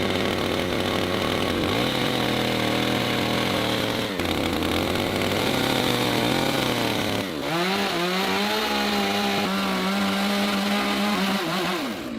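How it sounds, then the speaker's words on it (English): An angle grinder whines steadily at close range while cutting and shaping long steel angles for a window frame, its pitch dipping and rising as the disc bites into the metal, with no talk. "Long metal angles are being cut to perfect measurements and shaped with a grinder so the window can be installed"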